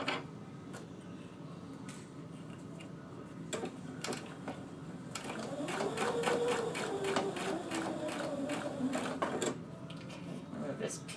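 A home sewing machine stitches chiffon onto a T-shirt along an earlier stitch line, giving a quiet, rapid ticking rhythm that speeds into a brighter whir partway through, with soft handling noises around it.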